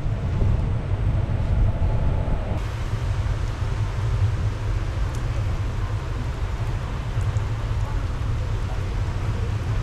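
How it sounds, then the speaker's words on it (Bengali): Steady, dense rumble and rattle of the Azimganj–Krishnanagar City Passenger train running in rain, heard from on board, continuous and fairly loud throughout with no talk. "বৃষ্টির মধ্যেই ট্রেন যাত্রা শুরু হচ্ছে"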